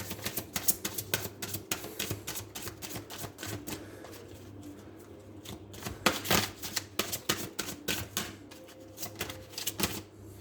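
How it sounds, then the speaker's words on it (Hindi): Tarot cards are shuffled and drawn from a deck during a reading: a dense run of quick riffling card flicks and snaps, close and steady for about ten seconds, with a faint background hum and no speech. "चलिए एक कार्ड और निकालते हैं आपके लिए और क्लैरिटी के लिए।"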